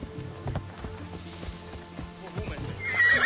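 A horse neighs and whinnies loudly while hooves clatter in a quick, uneven rhythm close by, with a rider's voice calling out over the commotion.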